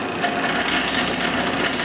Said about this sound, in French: Je retourne la perceuse à colonne et je reperce un trou de l'autre côté du clou.